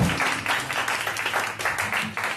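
A crowd at the Koriyama music festival claps in dense, fairly close applause, with many hands beating in a rippling, uneven rhythm that swells and dips briefly.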